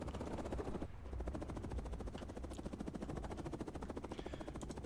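Helicopter rotor in the Cold War strategy game Headquarters, a steady rapid chopping that runs throughout at low level, faint and alone with no talk.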